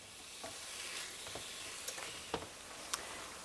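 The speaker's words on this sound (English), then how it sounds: "Now that I've done browning the ground beef" Ground beef browning in a pot, a soft continuous sizzle with several sharp scraping stirs of a utensil spaced irregularly, close and fairly quiet, no talking.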